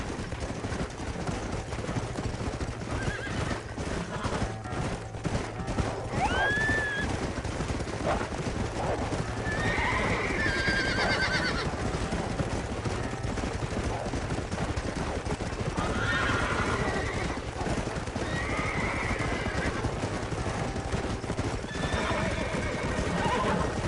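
Horses in the Red Dead Redemption video game whinny and clop their hooves near cliffs in a steady outdoor soundscape, with a rising neigh partway through and further whinnies later over continuous ambient noise.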